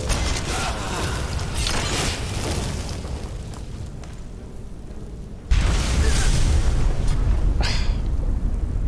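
A small explosion in the modded video game Skyrim Special Edition: a steady mechanical, creaking game ambience breaks into a sudden louder, sustained blast partway through, with crackling bursts over it.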